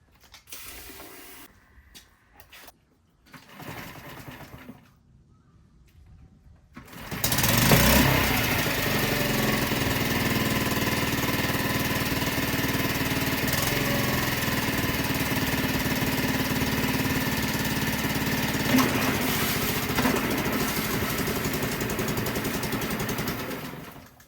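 A second-hand Mercury outboard motor, run in a bucket of water, gives a few faint clicks before starting up, then idles slowly with a steady mechanical rattle, close and continuous for many seconds.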